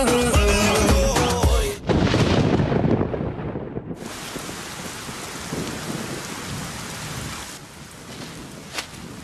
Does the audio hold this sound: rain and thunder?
yes